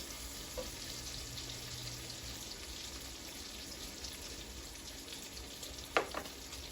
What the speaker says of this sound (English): So now I'm getting ready to add the garlic, the celery, and the onions.